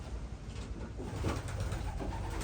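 Racing pigeons, Frank McLaughlin birds, coo softly and continuously inside a loft, a low steady murmur of several birds close by with no talk.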